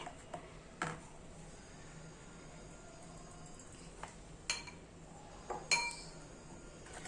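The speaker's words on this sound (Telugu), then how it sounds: "సో ఇప్పుడు ఇట్లా మనం కొంచెం కొంచెంగా యాడ్ చేసుకుంటూ దీన్ని మనం మిక్స్ చేసుకుంటూ ఉండాలి" Pancake batter being mixed in a bowl, heard as a few sparse, light clinks of utensil against the bowl over a quiet room background, with no talking.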